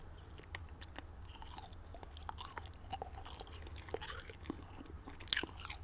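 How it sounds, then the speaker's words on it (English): Gum is chewed close to the microphone, with soft wet smacks and clicks in an uneven rhythm and a sharp snap near the end over low background hum. "I really hope you guys enjoy gum chewing."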